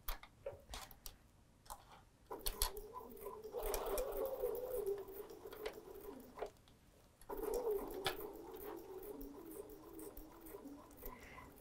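A sewing machine stitches a fabric pin cushion in two bursts of steady mechanical whirring, separated by brief pauses, fairly quiet and with no talk.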